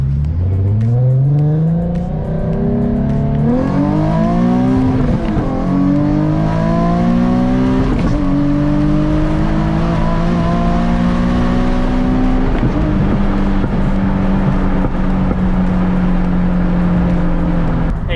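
A Nissan 370Z Nismo's engine pulls hard on a back road, its note climbing through several rising sweeps with brief dips between gears, loud and close throughout with no talk.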